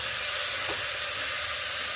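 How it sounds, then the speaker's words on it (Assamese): Steady, close sizzling of meat frying in a pan, a continuous broadband hiss with a faint scrape of stirring partway through. "এইখিনি আমি ভাজি ভালদৰে লৰাই দিলোঁ"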